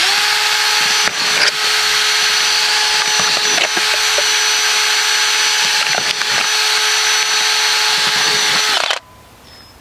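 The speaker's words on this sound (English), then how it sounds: "So take our drill" A power drill bores drainage holes in plastic sowing cups, a loud, continuous high-pitched whine with brief dips and crackling bursts as the bit cuts through, running close up for about nine seconds before stopping abruptly.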